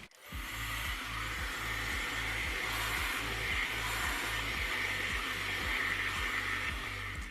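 A budget AliExpress Airwrap-style hair dryer blows steadily and loudly for about seven seconds while pre-drying hair, a constant airy whoosh with a pulsing low hum underneath and no talking.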